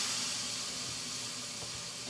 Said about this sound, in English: I'm gonna run a little bit of cold water over this just to make sure that they don't overcook